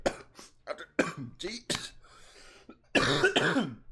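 A man coughs and clears his throat in several rough, close bursts, with short pauses of breath between them and a stronger fit of coughing near the end.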